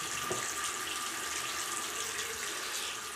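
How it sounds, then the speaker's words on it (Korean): Water running steadily in a bathroom, a continuous hiss like a tap or pipe flow, moderately faint and unbroken with no voices. "갑자기 가끔 화장실에 물소리 날 때 있어."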